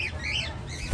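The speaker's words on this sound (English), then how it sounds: "I was not expecting it to literally fly in my face." A bird in a zoo aviary at a children's zoo gives a sharp, close squawk as it flies straight at the camera, followed by a brief low thump near the end.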